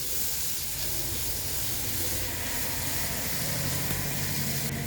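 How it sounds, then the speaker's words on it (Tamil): Chopped large onion sautéing in hot oil, a dense continuous hiss and sizzle held at an even loudness throughout, close and unbroken. "போட்டு நல்லா எண்ணெயில் நல்லா வதக்கி எடுக்கலாம்."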